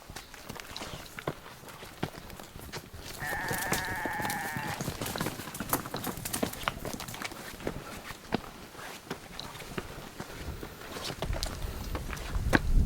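A goat gives one wavering bleat, with hooves and footsteps clattering on the ground around it.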